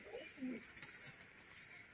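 A pet pigeon coos softly twice in quick succession, close but faint, over a quiet hissy background.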